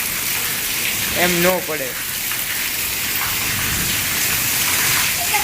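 Heavy rain pours steadily during a thunderstorm in Rajkot, a dense continuous hiss filling the scene, with a brief voice speaking over it near the start.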